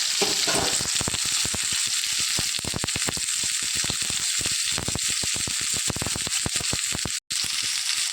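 Tomatoes fry in hot oil in a wok, a close, continuous sizzle broken by dense, irregular crackling pops, with one brief drop-out near the end.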